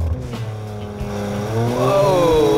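A Porsche in Sport Plus mode launches hard with launch control at the Porsche Experience Center in Los Angeles: a close, steady engine rumble swells into a loud rev that climbs in pitch as the car accelerates.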